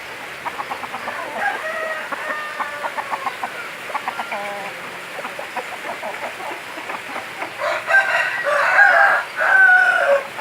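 A fighting rooster crows repeatedly at close range, several loud crows in a row with clucking between, clearest and strongest near the end.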